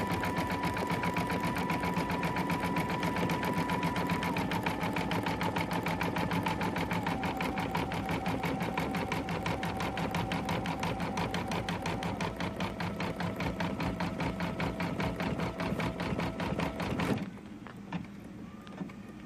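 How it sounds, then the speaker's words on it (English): A Destiny 2 embroidery machine stitches steadily in a fast, even mechanical whir, then near the end it trims the jump stitch and the running stops, leaving a quieter tail. "Taking the final stitches, it cuts, flips out that jump stitch, so you don't have any jump stitches to trim on the Destiny."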